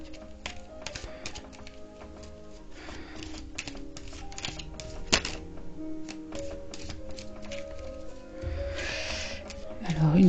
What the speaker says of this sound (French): on va battre ce jeu-ci